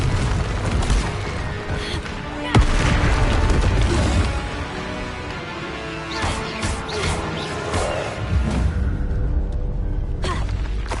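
A Confringo blasting-spell explosion in a Hogwarts wizarding video game, a sharp loud crack followed by rumbling booms and crashing debris amid ongoing combat noise.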